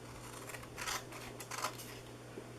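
Scissors snip through a paper treat box, giving a few close, crisp cuts in quick bursts over a quiet background with no talking.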